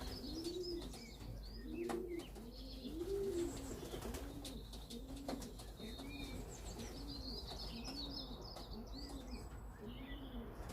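Dozens of young racing pigeons coo softly and rhythmically in a crowded aviary, their repeated low rolling calls overlapping, with occasional chirps and brief wing flaps against faint background hum.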